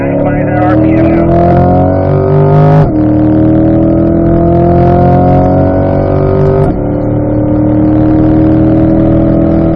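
A C8 Corvette on the Spring Mountain Raceway track at full throttle, its engine loud and close with rising harmonic whine through each gear, two sharp shifts breaking the climb; a voice talks over it.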